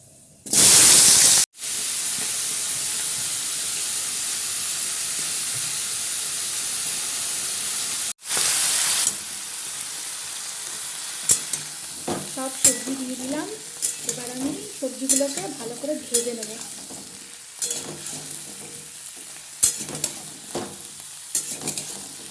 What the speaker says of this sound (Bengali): ফোড়নটা ভাজা হয়ে গেছে এবার দিয়ে দেবো সবজিগুলো